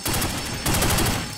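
Rapid gunfire in The Godfather video game, a fast burst of shots with a brief gap midway, loud and continuous over about a second and a half.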